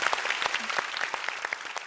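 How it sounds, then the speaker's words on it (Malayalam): Audience clapping in an auditorium during a televised music show tribute, many hands beating in a dense, steady patter that stays moderately loud throughout, with no talking. "നമുക്ക് എല്ലാവർക്കും കൂടെ ചേർന്ന് ഒരു വലിയ കൈയടി കൊടുത്തേ"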